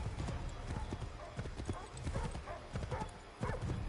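A horse trots through Assassin's Creed 3, hooves clip-clopping in a steady rhythm under a busy game soundscape, with a voice talking over the hoofbeats.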